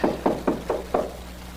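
Five firm knocks on an apartment door, evenly spaced and close, each a short thump fading quickly, with no voices over them.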